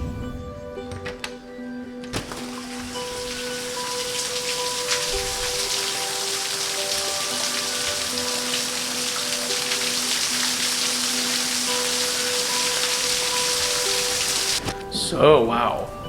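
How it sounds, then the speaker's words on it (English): Steady, dense rain falls during a thunderstorm at Shenandoah National Park, a continuous close hiss that holds level for the whole stretch, with a brief louder rustle near the end. "But no, we're getting rain. That is rain."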